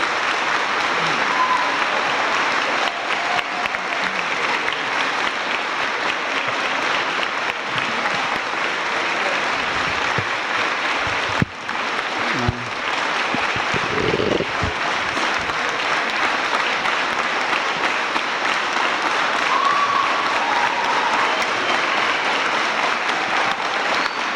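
Sustained audience applause fills a city council meeting chamber, steady and dense clapping from a sizable crowd throughout, with a brief dip near the middle before resuming at full strength.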